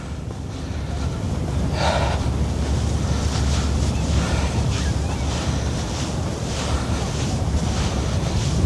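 Ocean waves wash onto the beach at Asbury Park boardwalk, New Jersey, in February, a continuous surf roar mixed with steady wind buffeting the microphone.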